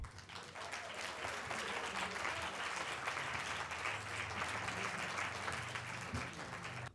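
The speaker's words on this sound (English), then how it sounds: "I would like you all to give this phenomenal woman a round of applause" Steady, fairly distant applause from a lecture audience welcoming ocean scientist Dr. Sylvia Earle, continuous clapping for about seven seconds with no voices over it.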